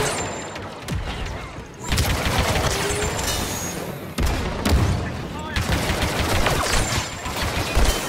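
Rapid blaster fire in Star Wars Battlefront 2, steady loud volleys broken by a couple of short pauses, with busy battle noise underneath.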